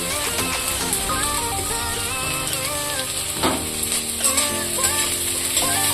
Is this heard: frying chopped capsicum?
yes